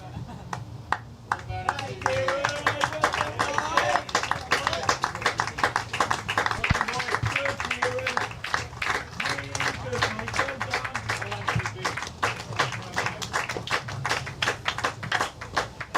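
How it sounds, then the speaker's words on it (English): Sustained clapping from spectators at a Sussex Cricket League Division 3 East club match, Hailsham versus Cuckfield, for a batsman walking back to the pavilion after being caught, steady and fairly close with some crowd murmur underneath. "Rapturous applause for Kieran as he makes his way back to the"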